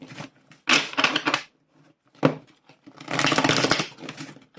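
A deck of unicorn oracle cards is shuffled by hand in several bursts of crisp riffling and flapping, close and fairly loud, broken by short pauses, with a longer run of shuffling near the end.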